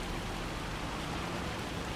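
Rain in the farming game Farming Simulator 25 falls as a faint, even, continuous patter and hiss, steady throughout with no voices.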